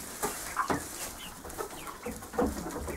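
A rooster in a homestead chicken pen clucks in short, scattered bursts at moderate distance, with faint rustling and no talk.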